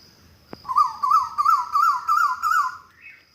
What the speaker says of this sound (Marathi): पक्षाचं गायन कोकिळ पक्षाचं गायन